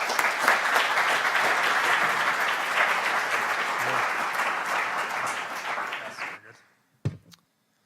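An audience at a community church forum applauds to welcome the panelists, steady dense clapping for about six seconds that fades out, followed by a brief isolated thump.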